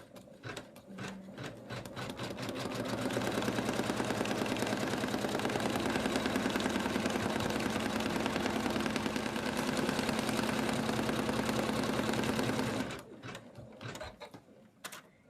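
An embroidery machine stitches the outline of an in-the-hoop snowman stocking, running as a steady fast mechanical whir with rhythmic needle clatter for about ten seconds, starting and stopping with a few slower stitches.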